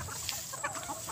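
Hens clucking in short, scattered bursts over a steady outdoor hiss on a rainy farm afternoon, fairly close, with no talking.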